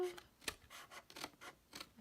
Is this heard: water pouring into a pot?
no